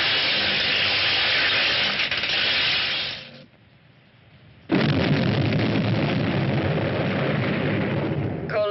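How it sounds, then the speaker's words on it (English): A strong explosion in a science-fiction war setting roars as a dense, loud blast of noise, breaks off into a brief quieter gap, then surges back with another sustained rumbling burst. "Base communicates a strong explosion in the sector HF203"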